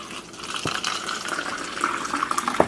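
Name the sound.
water poured into a cup, Kangen water demo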